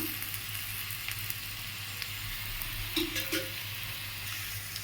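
Chopped tomatoes sizzle in a hot pan while aloo posto is being cooked, giving a steady, soft frying hiss with a few faint stirring clicks and no talk.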